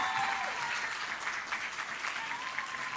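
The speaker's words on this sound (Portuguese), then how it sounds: "Palmas para a Andréia!" Steady applause from an audience welcoming an educator onto the stage at a cultural panel event, a dense, even patter of clapping that holds for the whole stretch without voices.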